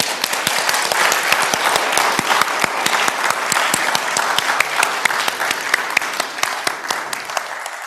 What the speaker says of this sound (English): clap your hands like there's a big celebration